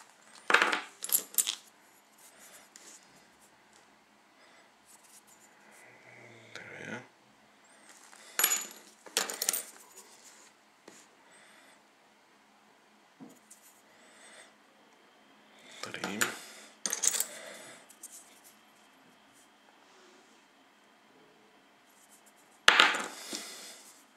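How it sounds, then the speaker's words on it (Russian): Dug-up old coins handled and counted, giving sporadic metallic clinks and taps spread out over time with quiet gaps between them. "Монеты копаны. Смотрим и считаем."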